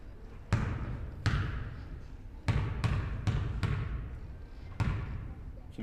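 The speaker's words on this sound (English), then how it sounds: "You can hear the ball bouncing all the way over here." A basketball bounces on a gym floor during a girls' varsity game, about seven sharp, echoing thuds at an uneven dribbling rhythm, with reverberant crowd and gym murmur around them.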